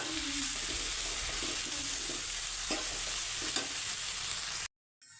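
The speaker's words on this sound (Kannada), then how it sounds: "ಎರಡು ಹಾಕೊಂಡು ಸ್ವಲ್ಪ ಮಿಕ್ಸ್ ಮಾಡ್ಕೊಳ್ಳಿ" Spices being stirred into biryani masala frying in a pan for tomato biryani: a continuous close sizzle with soft scraping strokes of the spoon, steady throughout, cutting out briefly near the end.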